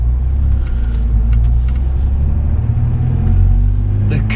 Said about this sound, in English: this is the best day to drive an Alfa Romeo